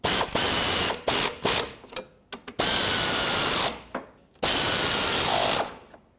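A hand ratchet spins out 10mm screws on the radiator of a 2003-2008 Subaru Forester, giving close, loud bursts of rapid clicking in several runs with short pauses and repositioning sounds between them.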